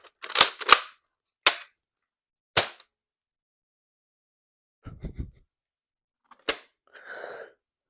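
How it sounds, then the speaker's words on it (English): An X-Shot Lock Blaster toy blaster firing with sharp, close cap-gun-like snaps: several shots in quick succession, then a later single shot, with quieter handling clicks and rustling in between. "you can still fire it while it's on safe if it's already primed"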